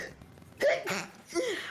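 A person sneezes in short, sharp bursts, two or three quick explosive breaths close to the microphone, with faint background noise from an Overcooked 2 game session.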